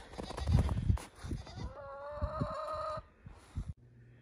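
Farm animals bleat and cluck in a short burst, with a goat calling over a sustained bird cry and a few rustles, heard close and fairly loud in a barn setting.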